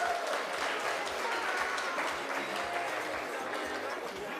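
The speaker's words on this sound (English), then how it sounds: "Please, another warm round of applause for NAM Water" Warm audience applause at a closing awards ceremony for the national water utility, a dense, steady roar of many hands clapping with faint crowd chatter beneath.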